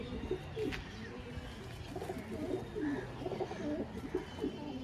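A pair of pigeons kept for sale coos in a busy, overlapping run of low throaty calls at close range, several birds murmuring together without any talk.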